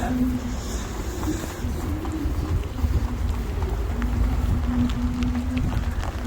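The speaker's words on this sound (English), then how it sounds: "Wind is whipping here" Strong wind buffets and rumbles continuously, loud and gusty, with a faint steady hum underneath and no one speaking.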